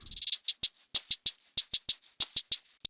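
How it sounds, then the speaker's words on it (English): A steady looping shaker pattern, bright swishy strokes in a quick repeating rhythm, close and fairly loud, with no other instruments. "I added the shaker loop"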